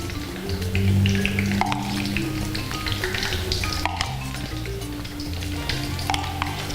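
A schnitzel fries in a pan with steady, close sizzling and crackle throughout, while faint background music plays underneath.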